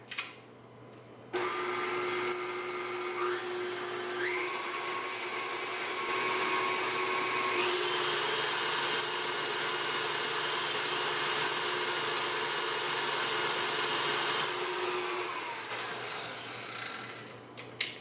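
An electric mixer creams butter and sugar for a pound cake, a steady whirring drone that starts abruptly, shifts pitch a few times as the beaters work, and winds down near the end; no voices.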